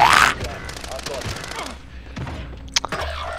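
Gunfire from a 12-gauge shotgun in the video game Call of Duty Warzone, sounding as a loud burst at the start and then a couple of short sharp bangs near the end, mixed with game noise and voices.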